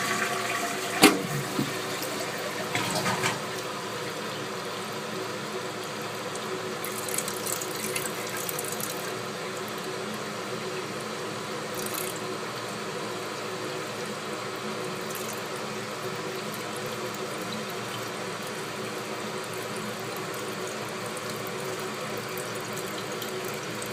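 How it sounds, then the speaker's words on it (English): A toilet fitted with a new Korky Universal Quiet Fill valve flushes with a brief gurgling rush, then refills with a steady, even hiss of running water that continues alone for a long stretch. "And here we go in a flush."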